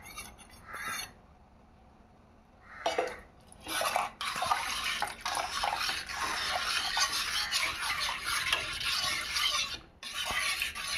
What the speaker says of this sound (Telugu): ఉండలు లేకుండా బాగా తిప్పుతూ ఉండాలి ఇట్లా, లేదంటే లంప్స్ లాగా ఫామ్ అయిపోతుంది.